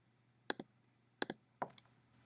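Three crisp, close computer mouse clicks, the first two doubled, spaced about a second apart in a quiet room.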